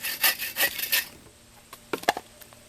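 A knife cuts into raw wood being shaped into bow drill parts: four quick, close rasping strokes, then a pause and a few faint scraping clicks, with no voices.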